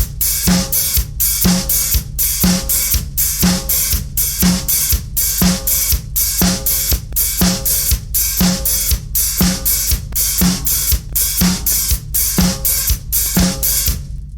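A disco drum kit groove: a steady four-on-the-floor kick under offbeat hi-hat strokes that open and then close with a crisp chick, repeating evenly and up close for about fourteen seconds with no talking.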